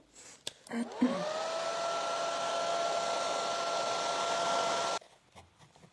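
A hair dryer whirs steadily for about four seconds at close range, drying paint on a stencil, with a constant whine, then shuts off.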